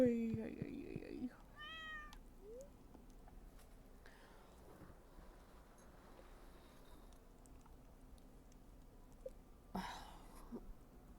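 A pet cat in the Stardew Valley farm game gives a couple of short meows when petted, fairly faint, followed by quiet game ambience and a light chime later on.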